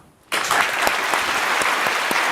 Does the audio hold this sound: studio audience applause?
yes